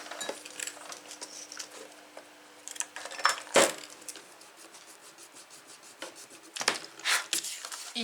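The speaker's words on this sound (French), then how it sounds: "Donc, je vais gommer." Close, dry rubbing and scraping of an eraser on paper comes in short irregular bursts with quiet gaps between them, and no voices are heard.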